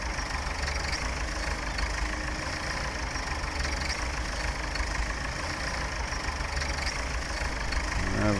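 A tractor engine idles and rumbles steadily in Farming Simulator 17 on a 1960s-era farm, a constant low mechanical drone with a faint knocking texture throughout.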